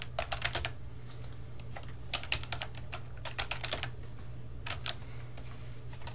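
Typing on a computer keyboard at an Ubuntu terminal, a close, quick run of clicky keystrokes in short bursts with brief pauses, over a low steady hum and no speech.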